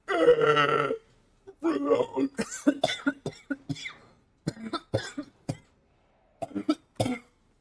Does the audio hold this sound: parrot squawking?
no